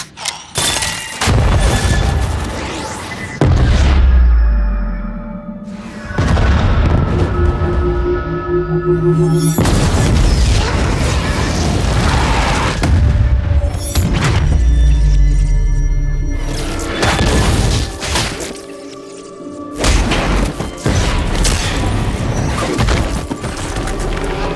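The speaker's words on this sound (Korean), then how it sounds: "파우더의 폭탄이 폭발하게 되는데" A bomb detonates in an animated series, setting off a run of loud, heavy booms and crashing impacts with deep rumbling that come in repeated waves and hardly pause.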